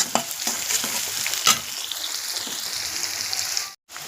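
Onions sizzling steadily in an oily pan, stirred with a spoon that scrapes and clicks now and then, close and fairly loud, with no voices.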